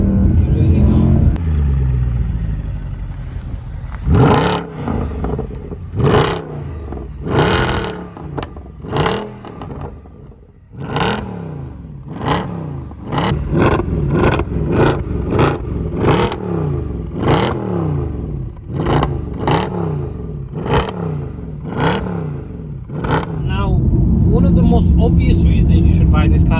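A 2010s Mercedes C63 AMG W204 V8 revs hard in a long series of sharp throttle blips, each bark rising and falling, loud and close, with deep rumbling idle between bursts and at the start and end.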